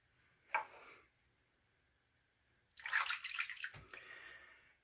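A shaving brush rinsed under running water: a short splash early on, then a louder, longer burst of running water with a brief gurgle near the end, close by with no talk.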